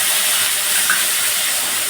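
Ginger, garlic, green chili, tomato and onion paste frying in a pan for spicy doi-potol, giving a steady, loud, even hiss that runs unbroken from start to finish with no talking.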